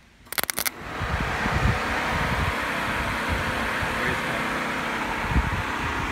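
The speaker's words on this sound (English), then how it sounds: "Let me throw on my radiator fans." Car radiator cooling fans switch on after a brief clunk and run as a steady, loud whooshing drone throughout, with no talking.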